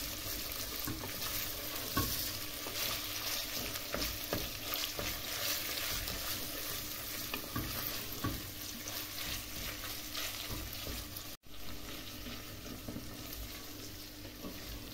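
Ground meat frying with onion in a pan, a steady close sizzle with scraping stirring strokes that carries on continuously, briefly cut off near the end, with no talking.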